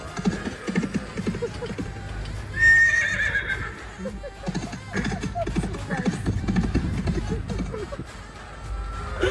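A horse pulling a buggy on a city ride in Mumbai lets out one clear whinny about a third of the way in, with hooves clip-clopping steadily, traffic noise, and people talking throughout.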